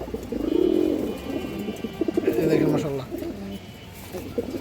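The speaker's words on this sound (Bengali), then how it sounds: "এ দেখেন কত সুন্দর করে ডাক দেন" A male Muslodom pigeon coos up close in two or three rolling, throaty phrases, with a low background hum and occasional small rustles around it.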